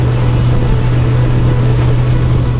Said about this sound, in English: take off with the trim all the way down, kick the boat out, up onto the plane, and then I'm going to trim up